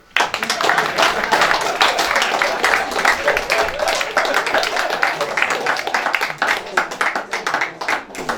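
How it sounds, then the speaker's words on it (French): Audience clapping at a gathering at the Ntisngbeu chiefdom in Bafou, a dense, steady patter of many hands sustained throughout, with voices mixed underneath. "applaudissez pour vous-même"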